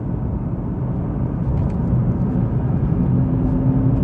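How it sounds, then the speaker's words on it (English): Low, steady engine hum from a 2020 Nissan GT-R 50th Anniversary Edition with titanium exhaust, heard from inside the cabin as a smooth, droning rumble with road noise and no voices. "you can hear that sort of vacuum cleaner style of humming sound"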